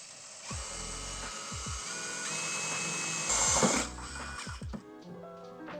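A power drill bores a hole under a 1992 Acura Integra GSR, working near the fuel filler tube. It whines at a steady pitch with rising and falling spin-ups, and short knocks and clunks come between the runs.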